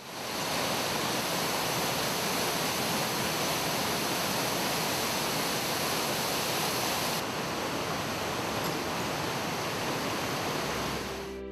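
A mountain torrent feeding a mill rushes in a steady, loud broadband roar of churning water, continuous and unbroken with no voices.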